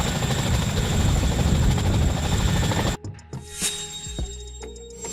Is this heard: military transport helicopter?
yes